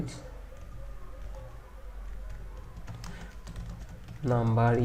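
Close computer keyboard typing while coding a PHP tutorial, soft irregular key clicks over a low hum, ending in a louder burst of sound.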